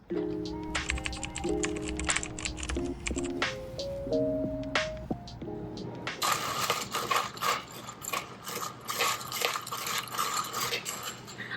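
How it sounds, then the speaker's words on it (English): Nugget ice clatters and rattles into a glass with a busy run of clinks and tumbling pieces, then a denser crackling pour fills the second half. "I literally love the sound of nugget ice."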